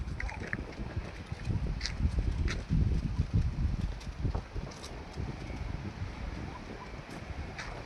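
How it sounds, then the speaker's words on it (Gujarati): Cool wind blows outdoors at a temple, producing rumbling gusts that buffet the microphone, rising and easing over several seconds, with faint talk in the background. "અહીંયા કેવો મસ્ત ઠંડો પવન આવી રહ્યો છે"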